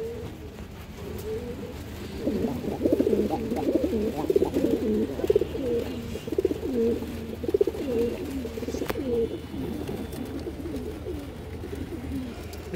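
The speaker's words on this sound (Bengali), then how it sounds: "মাশাআল্লাহ, দেখার মতো কবুতর।" Pigeons coo steadily in a loft of paired high-quality breeding birds, several soft rolling coos overlapping in a continuous murmur at close range.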